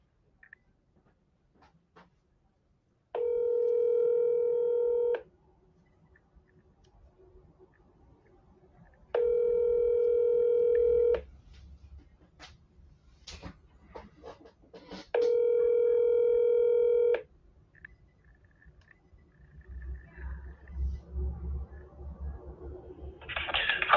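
A phone call plays: faint clicks of dialing, then three loud steady ringback tones spaced a few seconds apart with quiet clicks and soft background noise between them, and no talk.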